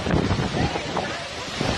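Strong wind gusts roaring steadily through a hailstorm at a school in Lamphun, Thailand, a broad continuous rush with brief louder surges close to the microphone.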